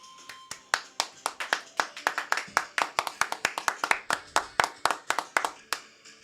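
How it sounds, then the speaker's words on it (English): A small group clapping in a podcast studio for the show's intro, a steady run of sharp, close hand claps at a fairly even pace that thins out toward the end. "You're supposed to clap."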